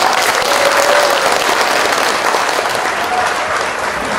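An audience at a ceremonial outdoor concert applauds in a dense, sustained burst of clapping that carries on steadily for several seconds, loud and close, with a faint voice briefly over it.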